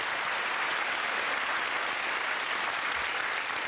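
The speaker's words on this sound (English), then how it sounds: "Give a nice round of applause" Steady, dense applause from a studio audience at a 1990 television game show, filling the whole stretch at an even, moderate level with no voices standing out.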